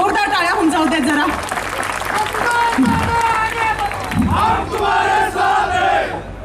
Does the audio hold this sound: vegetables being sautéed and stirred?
no